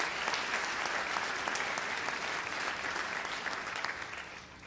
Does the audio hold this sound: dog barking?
no